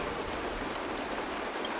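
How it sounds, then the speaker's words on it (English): Steady, soft hiss of rain falling in the video game Honkai: Star Rail, even and continuous with no other sounds. "It's raining!"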